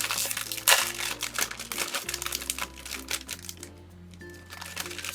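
Plastic packaging of Asian snacks being pushed open and handled, giving dense close crinkling and rustling in bursts that ease off toward the end, with faint background tones and no talking.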